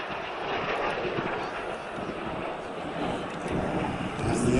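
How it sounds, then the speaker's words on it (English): Jet aircraft in an airshow formation roar past overhead, a loud continuous broadband rush that swells toward the end, with a few faint voices beneath. "As the aircraft pull out behind us, the smoke goes off."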